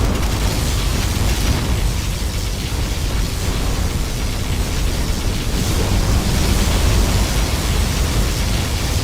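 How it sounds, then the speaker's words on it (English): A particle cannon strike in the video game Command & Conquer Generals roars as a continuous, loud, broadband blast of rushing, booming noise that fills the whole stretch without pause. "Our ally has activated the particle cannon."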